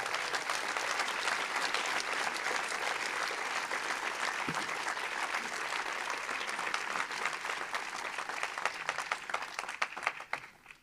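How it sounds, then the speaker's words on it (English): Audience at an event launching a university machine intelligence institute gives sustained applause, a dense steady wash of clapping from many hands that thins out near the end. "And please, can we applaud them?"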